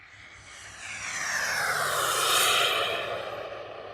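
An RC model MB339 jet with a turbine engine flies past, its turbine roar swelling as it approaches, peaking, then fading slightly, loud and steady without talk.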